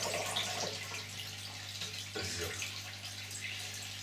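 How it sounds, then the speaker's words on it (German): Tap water runs steadily into a setup for breeding Caridina dwarf shrimp, a soft continuous splashing rush under a low steady hum, heard alone without talk. "ich lasse erstmal Wasser laufen."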